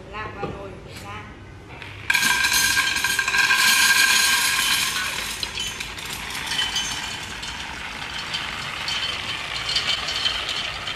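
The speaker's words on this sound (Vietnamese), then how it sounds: "Bước tiếp theo chúng ta sẽ đổ lạc vào nồi để rang." Raw peanuts poured into the roasting pot of a compact MH01 home nut roaster, a sudden dense rattling cascade of kernels striking metal that starts loud and settles into a steady clatter, with no one speaking.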